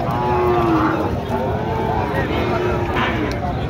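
A young Sahiwal bull calf, about four to five months old, moos loudly at a border-area livestock market, one long low call followed by a shorter one, with crowd chatter and people talking nearby.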